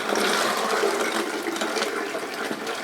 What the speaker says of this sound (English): it flushed.